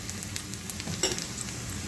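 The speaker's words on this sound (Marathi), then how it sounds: "कांदासुद्धा आपल्याला हलका गुलाबी होतपर्यंत शिजू द्यायचा आहे." Onions fry in a pan for a fenugreek seed bhaji, cooking until light pink. They give a close, steady crackling sizzle with small pops and stirring scrapes.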